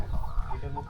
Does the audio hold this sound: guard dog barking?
no